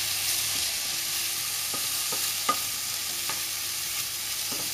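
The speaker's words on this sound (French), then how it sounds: "une fois que je fais bien suer mes petits oignons" Small onions sweat gently in a pan, giving a steady soft sizzle with occasional scraping taps as a utensil stirs them, moderately close and without talk.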